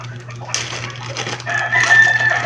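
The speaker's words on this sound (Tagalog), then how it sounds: "Pasensya na kayo sa manok guys, ganun talaga yung mga manok." Chickens cluck nearby while a rooster crows loudly in the middle distance, over a steady low electrical hum, with no talking.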